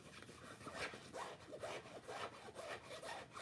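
Fingers rub the nylon of a Roberta Pieri Tatami Lounge large tote with leather trim, giving a soft, repeated scratchy brushing in short strokes. The sound is close but faint, with no talking.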